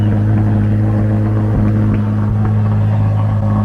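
A 2023 Corvette Z06's mid-engine runs at a steady, loud, close idle, with a deep constant rumble and no revving.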